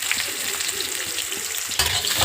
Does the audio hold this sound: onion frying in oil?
yes